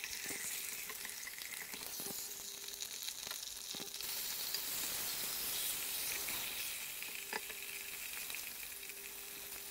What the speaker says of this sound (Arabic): في طنجرة وعلى نار متوسطة نوضع القليل من زيت البلدية ونقلي الدجاج من جميع الجوانب